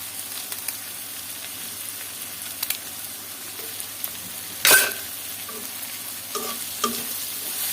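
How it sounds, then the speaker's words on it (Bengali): Something fries in a pan before potatoes go in, making a continuous sizzle with soft stirring scrapes and a sharp utensil clatter near the middle, followed by a few lighter knocks. "এটা একটু হালকা ভেজে নেওয়ার পর আলুটা দিব"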